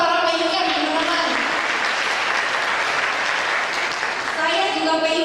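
Steady, full audience applause at a seminar, filling the whole stretch, with a voice heard over the clapping at its start and end.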